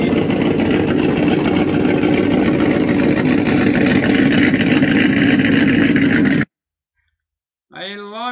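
A Ford Mustang idles with a steady, rumbling engine and exhaust drone heard close for about six seconds, then cuts off abruptly to silence before a brief burst of music.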